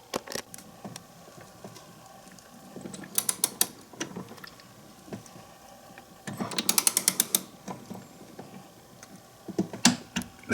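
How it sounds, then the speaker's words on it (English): A torque wrench set to 23 foot-pounds tightens locking nuts on a DeLorean's low-profile shock tower brace, producing close, sharp ratcheting clicks in short irregular bursts, with one quick run of rapid clicks midway. "I've got my torque wrench set to 23 foot-pounds, and I'm going to go ahead and torque those locking nuts"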